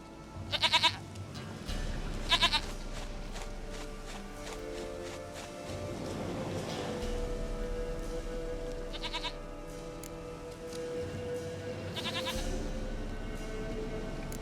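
Four separate goat bleats sound in The Witcher 3 video game, spaced a few seconds apart, each a clear quavering cry rising over a continuous low hum of in-game ambience and faint footsteps.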